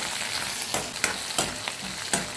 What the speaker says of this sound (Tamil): அதே இதோட ஒன்றா சேர்த்து வதக்கி விட்டுறோம்.